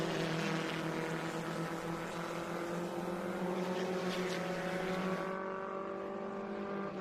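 Race cars at Road America brake hard into Turn 5 in Sunday racing, with a dense layered engine roar from several cars held steady and loud before cutting away abruptly near the end.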